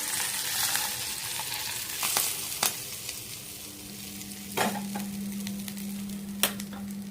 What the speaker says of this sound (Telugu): ఇది ఆల్రెడీ తాలింపు మరుగుతుంది చూసారా, పల్లీలు కూడా బాగా వేయాలి.